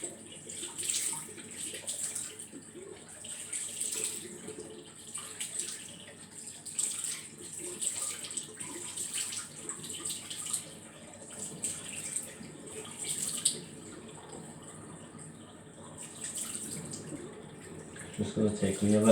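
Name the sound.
running water while dampening hair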